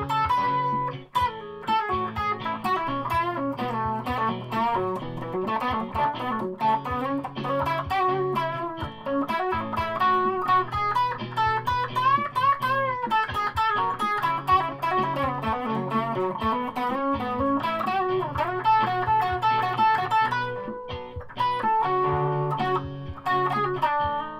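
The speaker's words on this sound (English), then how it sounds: "Bit more distortion." An electric guitar on a Boba Fett-themed body runs through a distortion effect, strumming dense sustained chords and riffs continuously at a loud, close level with no talking.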